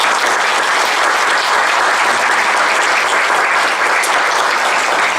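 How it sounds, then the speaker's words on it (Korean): Congregation at a Lutheran church service giving loud, sustained applause, dense clapping from many hands that holds steady without pause. "장로님 그리고 권사님 잠깐 일어나시면 우리 큰 박수로 감사합니다"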